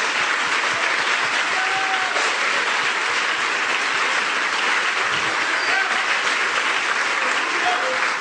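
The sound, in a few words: church congregation applauding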